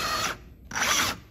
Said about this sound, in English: so I gotta make sure the drill bit is tight in the chuck